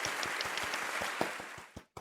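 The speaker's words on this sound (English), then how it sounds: "Giving himself applause." A short burst of crowd applause with rapid claps, fairly loud and close, ending abruptly with a couple of final claps.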